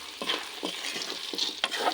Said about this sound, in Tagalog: halo lang ng halo